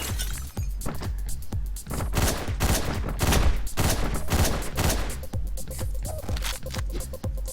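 Shotgun blasts and gunfire in the top-down action video game Hotline Miami, a rapid series of loud, sharp bursts with shattering glass, set over a steady electronic music track with no talk.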